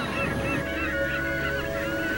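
Fulmars nesting on jagged sea cliffs at St Kilda, Scotland, give steady cackling calls that blend into a dense, continuous colony clamour with no talk over it.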